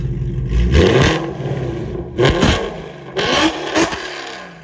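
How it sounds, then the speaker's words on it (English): A remotely started Ford Mustang's engine gives loud, close revs in three surging bursts, with brief drops between them. "All right, there's a little test rev. Now, headphone users, beware, because it is loud."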